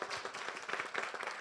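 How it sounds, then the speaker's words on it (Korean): Audience applause at a church pastors' preaching seminar in a Korean central church, a short burst of many hands clapping at moderate loudness, steady throughout with no talk. "박수 한번 해주시죠."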